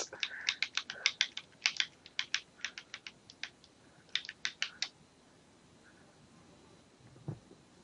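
Game controller buttons clicked loudly and rapidly during Super Dangan Ronpa 2, a burst of sharp clustered clicks for about five seconds, then quiet with one soft knock near the end.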